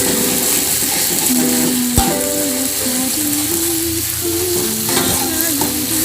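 Freshly ground spice paste frying in a hot pan, with loud continuous sizzling close up, occasional stirring scrapes and a low tonal hum running underneath.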